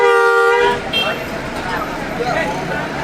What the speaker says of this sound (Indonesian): Mantap klaksonnya